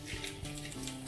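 Mussels sautéing in a pan for cozze in tecia, a short steady sizzle with soft scraping and clattering shell knocks close by.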